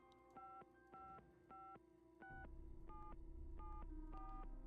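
Phone keypad being dialed in the Nancy Drew: Secrets Can Kill Remastered video game: a series of short two-tone dialing beeps in uneven rhythm, followed by a steady dial tone underneath the later beeps.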